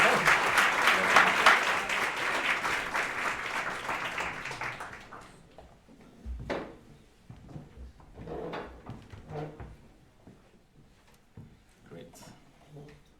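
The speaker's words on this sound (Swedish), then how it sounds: "så varm applåd till domarna!" Audience applause welcoming the judges at a Swedish coffee championship, a dense sustained clapping for about five seconds that fades out, followed by scattered thuds and bumps of movement.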